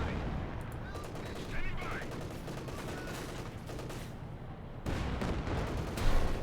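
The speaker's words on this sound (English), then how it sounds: "Panther 4, they're firing away" Panther tank and battle fire in Company of Heroes 2: dense, continuous rattling gunfire with heavier booming blasts, loud and unbroken throughout, thickening near the end.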